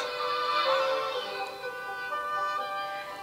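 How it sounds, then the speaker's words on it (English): A Mozart concerto in G played at maximum volume through the small built-in speaker of a Sony Xperia Play, thin and tinny sustained orchestral strings, continuous and moderately loud. "So at max volume, sounds like this."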